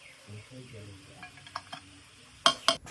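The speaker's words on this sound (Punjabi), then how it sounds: "2 ਮਿੰਟ ਹੋ ਗਏ ਨੇ ਆਪਾਂ ਨੂੰ ਲਸਣ ਤੇ ਅਦਰਕ ਭੁੰਨਦੇ ਹੋਏ ਹੁਣ ਆਪਾਂ ਇਸ ਨੂੰ ਕੱਢ ਲਵਾਂਗੇ" Garlic and ginger fry in hot oil in a pan and get stirred, with a soft sizzle under light scraping and a couple of sharper metallic clinks near the end.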